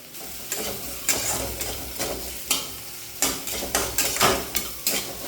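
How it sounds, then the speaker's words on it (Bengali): Chopped carrot fries lightly over a low flame, sizzling softly while a spoon scrapes and stirs it in a pan in a steady rhythm of about a dozen close strokes. "এর মধ্যে দিয়ে দিচ্ছি গাজর কুচি, হালকা করে ভাজতে হবে।"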